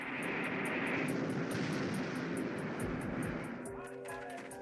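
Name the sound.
fighter aircraft flying to intercept a V1 flying bomb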